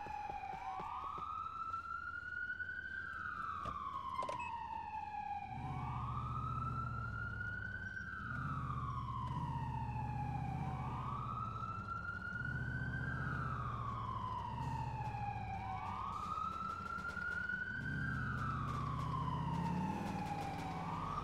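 Police sirens in the GTA IV mod LCPD:FR, set in a New York police patrol: a steady wailing siren rises and falls in repeated slow cycles, loud and continuous, over a low rumbling vehicle drone.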